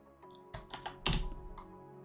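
Fingers tap on a computer keyboard, a short burst of several crisp, close keystrokes with one louder press near the middle, against a quiet background.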